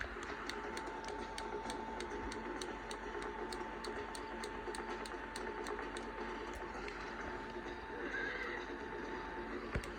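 A horse whinnies in the video game Red Dead Redemption amid steady background noise, with a faint regular ticking and light hoof-like clopping running through the clip.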